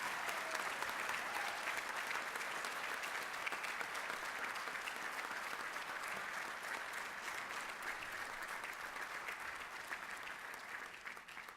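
An audience at an armed services ceremony gives graduating seniors a steady, sustained round of applause, distant and fairly soft, with dense clapping and no talk over it.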